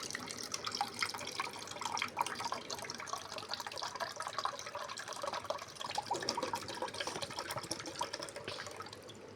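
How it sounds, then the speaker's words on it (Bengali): Coconut water pours out in a steady trickle and splash for a while, close and fairly quiet, as it is collected for making a coconut pudding. "আমরা এখন ডাবের পানিটা ঢেলে নেব।"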